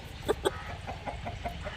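Chickens give a couple of sharp clucks near the start, then softer, quicker clucking carries on over a low background hum.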